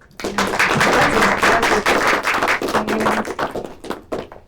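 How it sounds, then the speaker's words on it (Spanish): An audience claps for a speaker at a Spanish-language astronomy talk, a dense burst of applause at full strength that thins into scattered claps toward the end, close and loud with no speech over it. "Un aplauso a la doctora."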